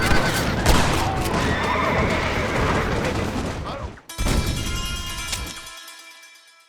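A horse whinnies loudly amid a dense, busy mix of action sounds in the video game Red Dead Redemption (2010), then a second neigh rings out before the noise cuts off.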